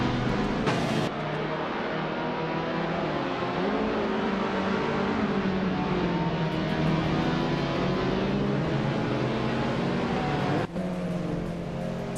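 Racing cars in a video game surge off the start line together, a dense, steady roar of engines with rising revs that holds loud and close throughout, with no talking.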